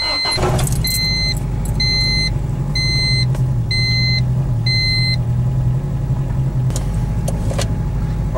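A Honda Civic Turbo hatchback idles with a low, steady engine rumble while a series of evenly spaced electronic beeps chime over it, followed by a few sharp clicks near the end.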